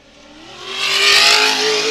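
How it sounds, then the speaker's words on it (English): A Tribe 16 2C IFS off-road race truck engine revving, swelling to a loud roar over about a second and then holding briefly, heard from fairly close. "So Chip's back on the throttle in that Tribe 16 2C IFS machine, running strong for Rufus Racing."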